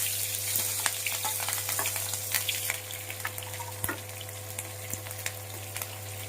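Chillies crackling in hot oil with mustard and cumin seeds for a tempering, a steady close sizzle with scattered sharp pops and spits, heard alone without talk.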